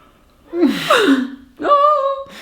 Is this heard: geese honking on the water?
no